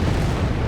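Dense, loud booming of a hailfire barrage striking a Sherman tank in Company of Heroes 3, a continuous roar of explosions with no gaps across the short moment.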